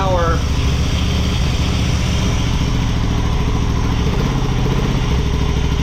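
A motorcycle engine, left sitting for almost a decade, idles cold with the choke on, steadily and loudly throughout, with a rough, rattling low rumble that holds constant.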